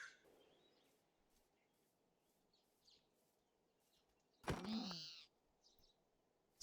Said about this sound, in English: Man, the crows are back.